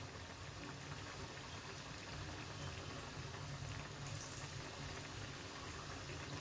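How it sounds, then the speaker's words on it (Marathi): Vadas deep-fry in oil in a pan over a medium-high gas flame, giving a steady, dense bubbling hiss with no pauses and no voices. "मीडियम टू फास्ट गॅसवरती ते फ्राय करून घ्यायचे आहेत"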